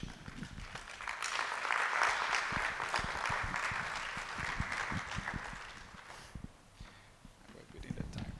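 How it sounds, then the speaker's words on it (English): Audience applause after a conference talk on emergency obstetric care, a broad spread of clapping with some sharper nearby claps, swelling early then tapering off, with faint speech near the end. "I think let's clap for him"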